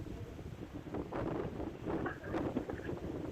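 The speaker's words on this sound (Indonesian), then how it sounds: "terlihat mendung dan angin sangat besar" Strong wind gusts blow across a landslide site under overcast skies, rushing and buffeting the microphone with a steady, surging roar, no voices heard.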